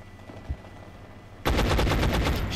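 Rapid machine-gun fire from the X-Com video game erupts suddenly after a quiet lead-in, a loud, dense automatic burst that continues to the end.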